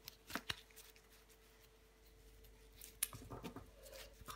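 Tarot cards being handled and laid down on a table, a few soft slaps and rustles early on, then quiet, then more shuffling and handling at the end.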